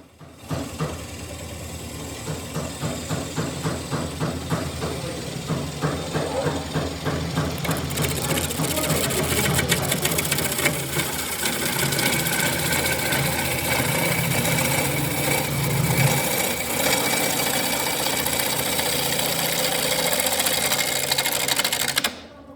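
A wood lathe turning park cedar into bowls at a shared workshop, with a continuous motor whir and rhythmic chattering of the tool against the spinning wood. It grows denser and louder after the first seconds and runs steadily to an abrupt stop.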